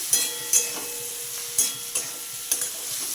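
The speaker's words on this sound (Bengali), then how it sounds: "ভালো করে মিশিয়ে নেব নুন আর হলুদের গুঁড়ো পেঁয়াজ আর টমেটো কাঁচা লঙ্কার সাথে" Onion, tomato and green chilli sizzle in a pan with salt and turmeric while a spoon stirs in several sharp scraping strokes over a steady frying hiss, with no voices.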